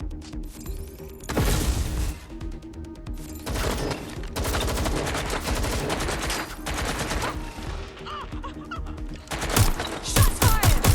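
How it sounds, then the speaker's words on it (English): Gunfire in the Watch Dogs: Legion video game rings out in repeated bursts of rapid shots, loud and close, broken by short gaps and crowding together toward the end. "Shots fired!"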